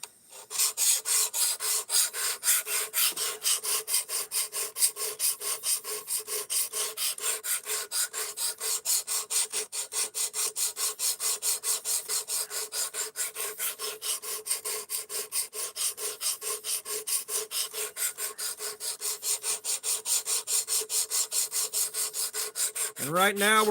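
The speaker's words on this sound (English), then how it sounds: "And right now we're running a 220 grit stone." A steel blade is sharpened on a 220 grit stone in a guided sharpening setup, giving steady close rasping strokes in a fast, even rhythm that continue for over twenty seconds without talk.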